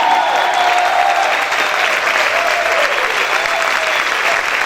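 Loud sustained clapping from a church congregation praising the Lord, many hands blending into a constant rushing patter, with faint shouts or a raised voice drifting over the applause.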